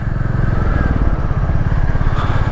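A motorcycle engine idles loudly and close by, a steady throbbing putter that runs unbroken through the whole stretch with no voices.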